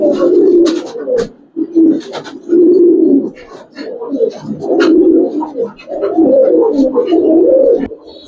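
Giribaz pigeons cooing close by in repeated soft, throaty bursts, with occasional wing flutters and chirps.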